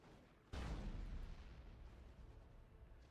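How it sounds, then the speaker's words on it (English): Baneblade main cannon in the Dawn of War II: Retribution video game fires once as a sudden heavy boom, then rumbles and slowly decays for a few seconds. "Jesus, Spookums, you're taking shots from a Baneblade's main cannon."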